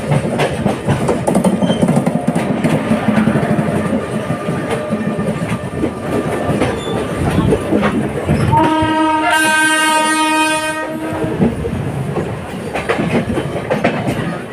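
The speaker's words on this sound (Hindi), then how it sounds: "क्रॉसिंग विथ अमृतसर सहरसा गरीब रथ एक्सप्रेस" A diesel-hauled passenger train on an Uttar Pradesh line passes the Amritsar–Saharsa Garib Rath Express: loud rushing wheel and carriage noise, then a long sustained horn blast rising over the rumble before fading back to rolling clatter.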